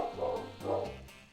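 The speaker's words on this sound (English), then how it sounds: "the dogs freak the fuck out upstairs" Several dogs barking upstairs, muffled through the ceiling, with a quick series of yapping barks in short bursts, moderately faint and indoors.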